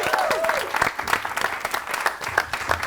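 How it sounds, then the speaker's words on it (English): Studio audience on a talk show claps for an arriving guest, a short burst of lively applause with some crowd noise and a voice over the top. "Everybody give him a round of applause."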